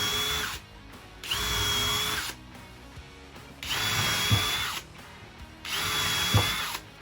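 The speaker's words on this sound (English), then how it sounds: "this edge here is a good example of where you should pre-drill" A power drill pre-drills angled screw holes in wood for a picnic table top, running in three or four loud, steady bursts of about a second and a half each with short quiet gaps between.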